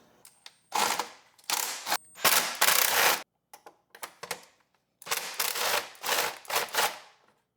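Bolts come off a carbon fiber engine cover on a Honda Type R, heard as close, irregular bursts of ratcheting and clattering mechanical clicks separated by short pauses.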